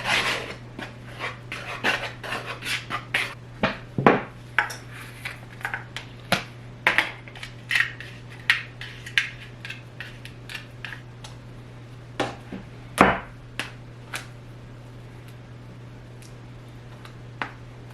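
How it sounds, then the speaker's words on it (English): Baking powder being whisked into flour in a bowl for a lemon pound cake, a long series of irregular dry scrapes and soft clinks against the bowl, fairly close, with no talk. "I'm gonna whisk this. I'm mixing that baking powder with this flour."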